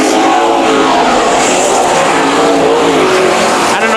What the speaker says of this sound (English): the second winner that I saw race here was the 21 of Devin Crockett, who you do not see on the track right now